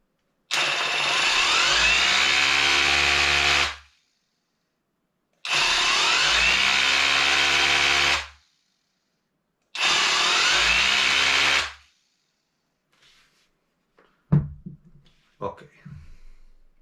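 Parkside PKHAP 20-Li C3 cordless rotary hammer drill running in three loud, steady bursts of about three seconds each with pauses between, followed by a few clunks and handling knocks.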